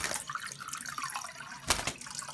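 Faint splashing of water cupped in hands while a pet green cheek conure bathes, soft trickles and drips close by with one brief sharper splash, no talking.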